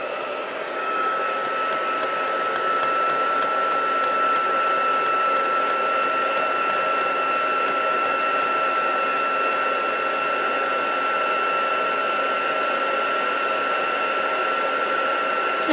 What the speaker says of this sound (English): let's get going with the heat tool